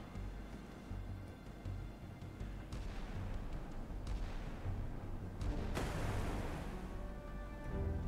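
Naval gunfire from a warship in the missile-age combat game Sea Power, a dense rumbling barrage of booms with sharper reports near the three-second and six-second marks, continuous and loud with no talking.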